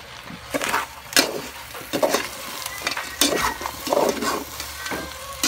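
Native chicken adobo stirred in a pan, the dry-style provincial kind, with repeated scraping strokes of a utensil over a steady sizzle, close and fairly loud, in an uneven rhythm.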